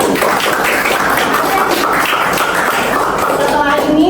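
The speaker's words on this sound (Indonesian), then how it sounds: "tepuk tangan untuk kelompok berapa?" A group applauds in a classroom, with steady, dense clapping filling the room for several seconds at a close, even level.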